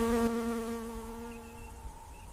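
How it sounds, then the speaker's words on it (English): Flies buzz around the irritated wounds of a giraffe, a close, steady drone of overlapping insect wingbeats in a thin harmonic hum, with no voices. "clouds of buzzing flies gathered around the irritated wounds"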